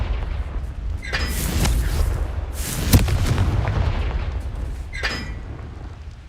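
Confringo blasting-spell explosions in a video game: several sharp booming blasts with crackling bursts, a big loud one in the middle and fainter ones before and after, no talking.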